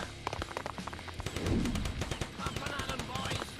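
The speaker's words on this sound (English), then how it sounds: "And something big is shooting at me." Gunfire from a sniper tower in Cannon Fodder 3, rapid sharp shots crackling in dense bursts along with thuds and explosions, close and steady for the whole stretch.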